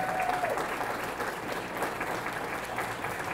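A room at a public meeting on a Tribune building project breaks into sustained applause, an even, continuous patter of many hands at moderate distance, with no speech on top.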